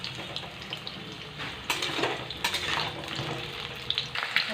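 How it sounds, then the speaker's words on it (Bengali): Large chunks of potato for aloo dum fry in hot oil in a pan, giving a steady close sizzle with occasional clatter of stirring. "লাল লাল করে ভেজে নেবো আলুগুলো"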